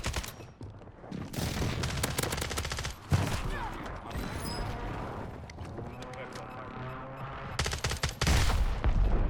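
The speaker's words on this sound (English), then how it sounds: "Enemy precision airstrike. Find cover." A precision airstrike in Call of Duty Warzone on Rebirth Island brings a barrage of heavy blasts and rapid gunfire, loud and sustained with sharp bursts, while voices talk over it.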